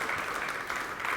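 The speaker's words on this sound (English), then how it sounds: "Let's give Mr. and Mrs. De la Garza one more big round of applause, because without them, literally none of us would be here right now." A crowd at a high school baseball letter-of-intent signing ceremony gives a big round of applause, a thick, even roar of many hands clapping that holds steady throughout.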